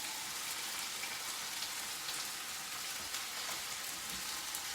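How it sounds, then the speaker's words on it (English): Mushrooms sizzling in a hot stir-fry pan, a steady, dense crackling hiss that holds evenly throughout with no talking. "Keeping that heat nice and hot. Keep it sizzling."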